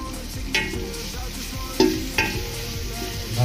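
Fish and vegetables, a curry of fish, potato, papaya and ridge gourd, stir-fried in a pan, giving a steady close sizzle with a few sharp scrape-and-clatter strokes as they are stirred.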